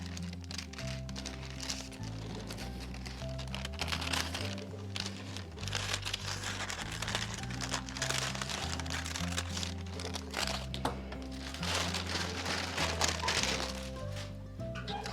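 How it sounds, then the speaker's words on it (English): Scissors fussy-cutting a small printed paper figure from a sheet for decoupage layering, a run of close crisp snips and crinkling paper rustles, quiet and continuous with no talk. "I'm going to cut him out first so I'm not fighting with this whole sheet."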